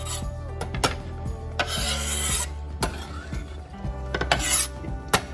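A knife scrapes chopped parsley for garnish across a wooden board, rasping strokes in short irregular bursts with light clinks of utensils, close and clear.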